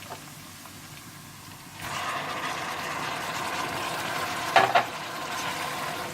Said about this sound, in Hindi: और जैसे ही अदरक लहसुन थोड़ा सा भून जाए तो आप इसमें टमाटर डाल दें।